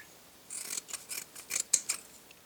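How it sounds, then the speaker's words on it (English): Scissors snip a Scotch-Brite abrasive pad into small pieces, giving several short, crisp, scratchy cuts at close range in a quiet room. "I'm going to cut up little pieces of Scotch-Brite pad"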